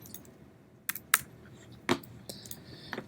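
Several scattered keystrokes on a computer keyboard, entering numbers into a field, tapped one at a time at close range with short gaps between presses and no voices.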